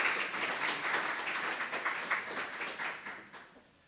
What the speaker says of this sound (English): give a round of applause to welcome him